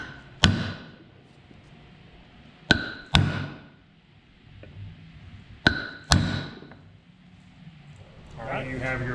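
A seal driver hammers a bearing seal into a brake rotor for a 1966 Ford Mustang 289 front disc brake conversion, with five sharp metallic smacks in pairs, close and loud, over quiet background.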